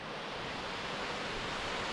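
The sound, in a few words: waterfall flowing into a gorge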